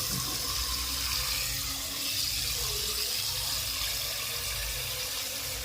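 Water runs steadily from a kitchen tap into a sink as food is washed before soaking, a constant close hiss and splash with no voices.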